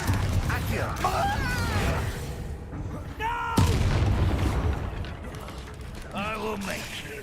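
A Confringo blasting spell goes off in the Hogwarts Legacy video game with a sharp boom near the middle, set amid dense clanking magical effects and whooshes, with a voice calling out over the action.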